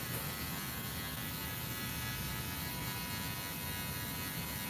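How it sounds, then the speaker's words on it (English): A barber's electric hair clipper, used for a temp fade haircut, runs without pause for about five seconds. Its dense, even buzz sounds close and there is no talk. "Well, wrong clipper. I have been using these, okay?"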